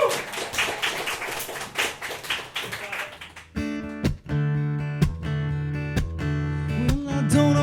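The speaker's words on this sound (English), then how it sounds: "Round of applause for Amy, if you're watching on the camera." An open mic audience claps and cheers for about three seconds, then the applause gives way to a musician starting to play and sing.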